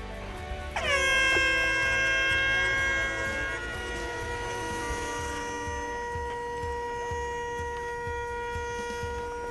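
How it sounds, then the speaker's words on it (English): A loud air horn blasts once to start an ice fishing derby on frozen Jackfish Lake, a long sustained blare that fades into open outdoor ambience and distant activity. "As soon as the horn sounds"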